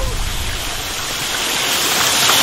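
Water gushes steadily out of a hole in a cartoon, a loud continuous rushing spray that swells slightly toward the end, with no voices over it.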